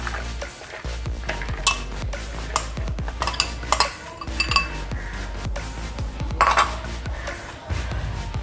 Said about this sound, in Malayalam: അത് നമുക്ക് ഈ ബൗളിലോട്ട് ഇട്ട് കൊടുക്കാം.